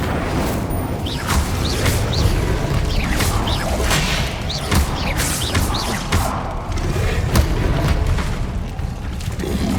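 Explosive and fire spells in Hogwarts Legacy sound as loud, continuous booming blasts, crashes and whooshes that pile up in a dense, relentless barrage of combat effects, with no speech.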